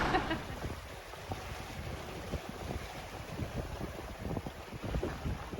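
A sailboat running about 120 degrees off the wind at 8 knots in roughly 20 knots of breeze, with steady wind roar buffeting the microphone and water rushing and slapping along the hull throughout.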